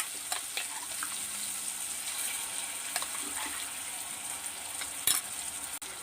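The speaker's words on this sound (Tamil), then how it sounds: "இந்த மசாலா போட்டு நல்லா வதக்கலாம்" Ground masala sautéing with onion and tomato in a pan for kuska, a soft continuous sizzle with occasional scraping stir clicks and a sharper clatter near the end, fairly quiet and close.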